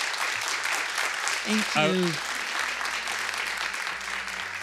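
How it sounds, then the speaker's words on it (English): Audience clapping after a lecture on a fatally unequal America, a steady wash of applause running through the whole stretch with a brief spoken thanks partway through. "Could you give her a round of applause?"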